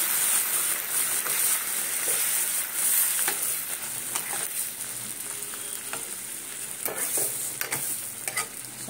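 Spices with garam masala, fennel, cumin and dried chilli sizzle hard in a frying pan after a splash of water, a bright, continuous close hiss broken by scraping stirs.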